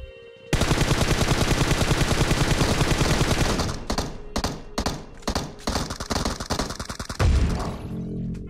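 An M4 rifle in PUBG Mobile's Halloween zombie mode fires close and loud: a long, rapid automatic burst, then shorter broken bursts with brief gaps, and a heavy thump near the end.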